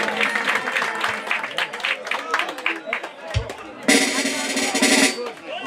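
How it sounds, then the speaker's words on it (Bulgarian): Guests at a christening party break into a loud burst of applause lasting about a second after a person speaks, with crowd chatter around it. "Едни бурни аплодисменти за нея и за нейното семейство."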